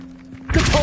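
A Levioso spell cast in the video game Hogwarts Legacy, a sudden thumping burst after a quiet stretch, followed by a bright shimmering swell with faint tonal glints.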